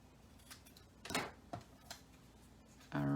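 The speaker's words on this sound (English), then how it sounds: "I'll just cut it." Scissors snip through a folded paper card in a few short, crisp cuts close by, spaced unevenly, before a brief buzzing noise at the end.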